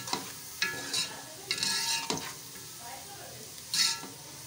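Cumin is tipped into browned onions sizzling in oil for a chicken handi, giving a soft continuous sizzle broken by several sharp spoon scrapes and bursts of louder crackle as the pan is stirred.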